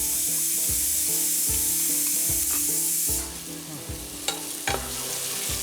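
Onions and tomatoes sizzle in a pan while being stirred in a steady scraping rhythm, close and loud, with a few sharp clinks near the end as the cooking for chicken dhansak continues.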